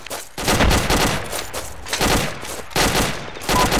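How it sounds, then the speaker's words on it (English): Grenade explosions and gunfire in the Arma 2 military game: dense, loud broadband blasts and rattling fire in three long sustained waves with brief lulls between, no talk. "One's getting spammed with grenades."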